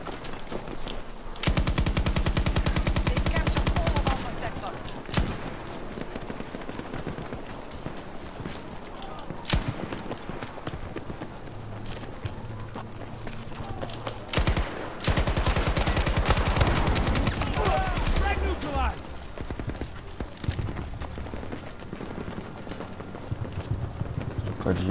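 Heavy weapon gunfire in Battlefield 2042 rattles in long sustained automatic bursts, loud and close, with gaps filled by quieter game noise and scattered shots.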